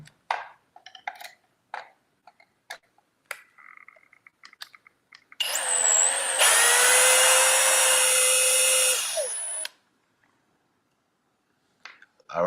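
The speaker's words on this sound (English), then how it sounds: "I like using the drill bit better, or drill, because it makes progress a lot faster" A power drill works on the casing of a Kraton RC car, a sustained loud high-pitched whine lasting a few seconds after scattered clicks and taps of handling.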